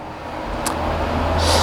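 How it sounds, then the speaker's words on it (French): Outdoor background of cars passing on a road with wind buffeting, a continuous low rumble that gradually swells over a short stretch, no voices. "Je suis désolé si tu entends les bruits des voitures, du vent, etc."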